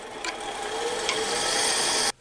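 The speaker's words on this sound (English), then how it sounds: "Step 8, part off the penguin." A turned wooden penguin Christmas ornament being parted off on a lathe gives a loud, steady rasping scrape that runs unbroken for about two seconds, then cuts off abruptly.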